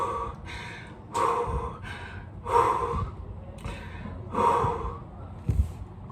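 A person takes sharp, gasping breaths in and out, about five distinct heavy inhalations and exhalations spaced a second or so apart, close and fairly loud, with no words spoken.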